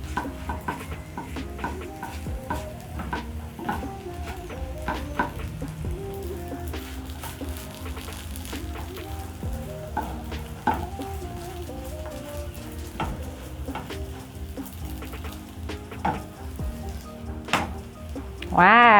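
A crepe cooking in a pan, a steady, close, crackling sizzle with scattered small pops and occasional light clinks, continuous and even throughout, getting louder at the very end.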